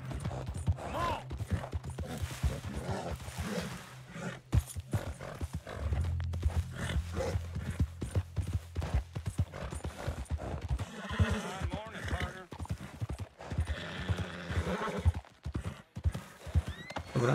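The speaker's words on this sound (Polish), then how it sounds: "Dobra, to jest mój koń." A horse in the Red Dead Redemption 2 video game clip-clops with steady hoofbeats and lets out neighs and whinnies, while someone talks over it throughout.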